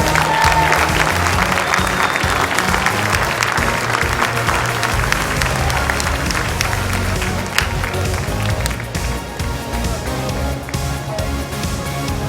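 Sustained applause from a large audience at a skills competition opening ceremony, steady and loud throughout as competitors parade through a banner, with a busy crowd murmur underneath.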